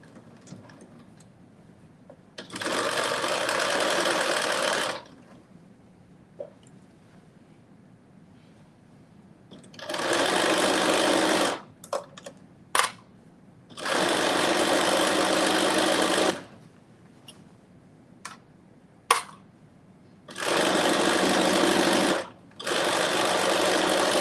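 Domestic sewing machine stitching a 5/8-inch seam allowance on a Simplicity 9825 garment, running in four steady bursts of a few seconds each with quiet pauses and small clicks between them, close and clear with no talk.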